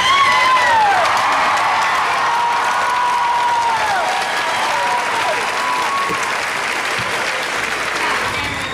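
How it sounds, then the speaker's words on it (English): A large commencement audience at the College of Charleston rises and applauds the graduating class, dense sustained clapping filling a big hall with a few whoops and cheers scattered throughout, steady and loud from start to finish. "Please stand and applaud the class"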